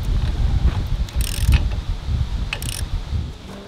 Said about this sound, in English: now all we have to do is go ahead and torque everything down